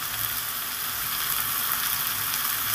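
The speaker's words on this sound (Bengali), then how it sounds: "এবার আদা আর রসুনটাকে দিয়ে সুন্দর করে একটু কষিয়ে নেব" Ginger, garlic and cumin fry in a pan with a loud, close, unbroken sizzle that stays steady throughout, with no talking.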